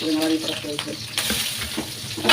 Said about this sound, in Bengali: এবার মাঝখান দিয়ে ফালি করে রাখা কাঁচা লঙ্কাগুলো দিয়ে দিচ্ছে